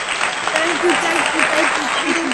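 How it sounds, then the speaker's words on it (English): Studio audience applause greeting a talk-show guest, a steady wash of clapping throughout with voices calling out and cheering over it. "Please put your hands together in a welcome."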